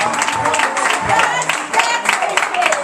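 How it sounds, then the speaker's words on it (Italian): Birthday party guests clapping together at a 60th birthday celebration, a steady round of applause from a small indoor crowd with voices mixed in. "let's give a little quick round of applause to my beautiful mother here"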